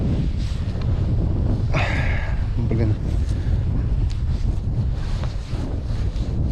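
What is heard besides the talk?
cold north wind blowing outdoors while fishing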